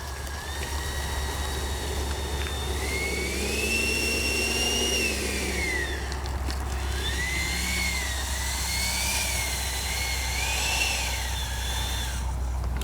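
An FMS 80mm F-86 RC jet flies overhead, making a continuous whining drone that swells and dips in pitch as it passes. The jet sounds alone, with no talk.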